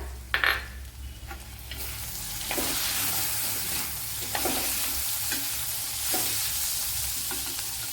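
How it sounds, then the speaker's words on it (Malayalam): Tomatoes going into a hot pan of cooked carrot, a sharp clatter at the start followed by a constant loud frying sizzle with periodic scraping stirs. "ഇനി ഇതിലേക്ക് തക്കാളിപ്പഴം ഇട്ട് കൊടുക്കാം"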